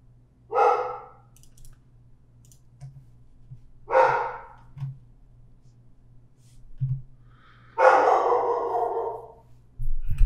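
A dog barks in three separate bursts, the last one longer and louder, with quiet room hum in between and no talking.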